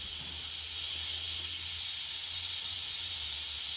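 Steam hisses steadily from an Instant Pot pressure release vent, a continuous bright, airy rush at moderate level with a faint low hum beneath and no talking.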